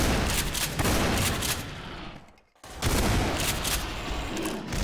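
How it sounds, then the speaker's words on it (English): Dense gunfire from enemies in the Garry's Mod video game, a sustained loud fusillade of shots that briefly drops out midway and then resumes just as heavily. "Oh, they're shooting at us, aren't they?"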